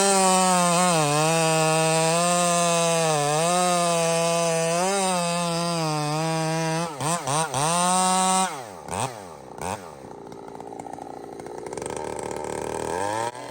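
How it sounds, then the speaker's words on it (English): A chainsaw with a freshly ground chain cuts through wood, its engine holding a loud, steady, singing tone under load before stuttering and dropping back toward idle near the end. "The saw is pulling itself through the wood."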